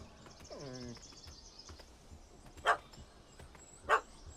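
A puppy in The Witcher 3: Wild Hunt (Hearts of Stone) gives a quick run of yips that slides downward, then two sharp single barks later, over quiet ambient game background.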